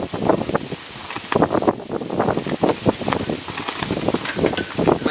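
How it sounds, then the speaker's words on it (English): Strong gusting wind buffets an outdoor microphone, with loud rumbling blasts and rustling that swell and ease throughout, near and continuous without clear speech. "oh, it's so windy now."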